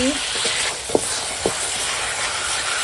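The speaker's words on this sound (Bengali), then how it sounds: "সিলেবাটা মশলা কাঠের জালে একবারে কষিয়ে কষিয়ে রান্না হচ্ছে" Ground spice paste sizzles steadily in a pan over a wood fire, a close, constant hiss broken by a couple of soft stirring knocks, with faint voices in the background.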